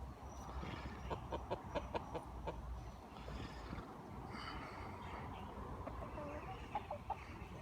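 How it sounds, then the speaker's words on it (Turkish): Chickens cluck in short repeated bursts against a busy outdoor background, with faint voices now and then. "Ya bu da benim tavuk."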